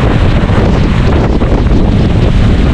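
Strong, continuous wind buffets the microphone at close range, a loud roaring rush of gusts ahead of an approaching storm, with no rain yet and no talking.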